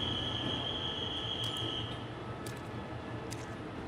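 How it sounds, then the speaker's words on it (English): A passenger train moving off in southern Thailand, with a steady low rumble of wheels on the tracks, a fading high squeal from the wheels and a few sharp metallic clanks. "The rhythmic clatter of wheels against tracks became our soundtrack, a steady, almost hypnotic beat"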